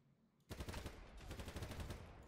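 Rapid automatic gunfire in a shooter video game, a dense burst of closely spaced shots that starts abruptly and keeps rattling steadily, quiet in level and with no voices over it.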